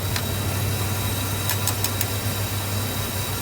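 A Rolls-Royce Silver Spur engine idles steadily, giving a close, continuous low hum with a few faint ticking clicks over the top and no talking.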